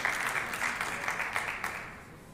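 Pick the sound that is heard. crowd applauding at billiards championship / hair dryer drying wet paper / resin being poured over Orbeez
crowd applauding at billiards championship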